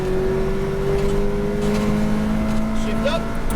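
McLaren 570S GT4 race car at Speed Vegas with its engine accelerating: a loud, steady, sustained engine drone whose tone climbs and shifts as it goes through the gears. An instructor talks over it.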